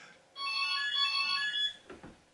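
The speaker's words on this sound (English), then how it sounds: "and there's the phone." A telephone rings indoors with one sustained electronic ring burst, clear and fairly close, then stops and a few soft knocks and movement sounds follow.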